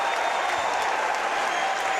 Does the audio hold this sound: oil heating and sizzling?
no